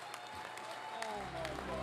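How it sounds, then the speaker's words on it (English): An audience at a summer convention awards ceremony applauds, a steady patter of clapping with scattered sharper claps and faint crowd murmur. "And we have your applause."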